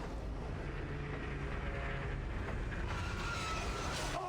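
Tram rumbling in the video game Dead Space 3, a dense, continuous rolling roar with heavy low end holding steady for about four seconds, without talk.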